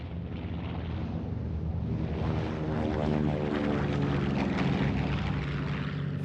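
Steady, loud droning of a U.S. Navy Catalina patrol plane's propeller engines, a continuous rumbling hum with wind rush that holds even throughout, no voices.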